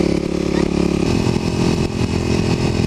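A Kawasaki KLX250sf dual-sport motorcycle runs along a curvy gravel road, its engine droning loud and steady with wind buffeting the rider-mounted mic; no talk is heard.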